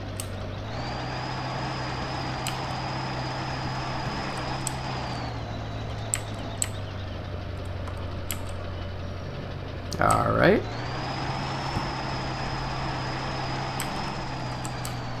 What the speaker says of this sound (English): we'll take this truck on a run without the trailer.